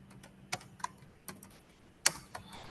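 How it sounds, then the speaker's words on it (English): Keys on a computer keyboard being typed in short, irregular bursts of clicks, a few sharper strokes standing out, close and fairly quiet with no talking. "You can start typing here,"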